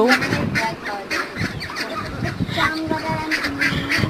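Ducks quack repeatedly and irregularly in an overlapping, fairly loud chorus, with a duck whose bill is tied mixing among the flock.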